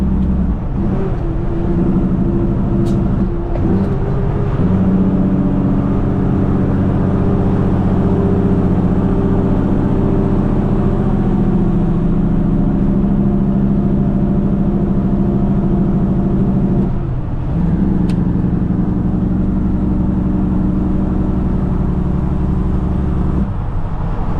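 A Kenworth truck engine drones loud and steady while driving on a busy four-lane highway, a constant low rumble with slight dips in pitch and no talking.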